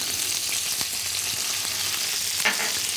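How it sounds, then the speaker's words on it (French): A guinea fowl pan deglazed with wine vinegar sizzles loudly and steadily, with a few sharp crackles and a brief hissing burst near the end. "je viens déglacer avec un petit peu de vinaigre de vin"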